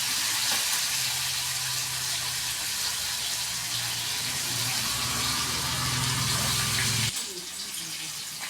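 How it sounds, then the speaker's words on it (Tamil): Carp pieces fry in hot oil with a continuous, close sizzle and bubbling that suddenly drops lower near the end. "இவ்வளோ அருமையாக மீன் வறுவல், கெண்டை மீன் வறுவல் ரெசிபி செய்து கொண்டிருக்கிறோம்."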